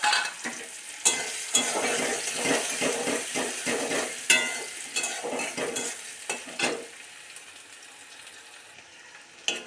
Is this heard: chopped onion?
yes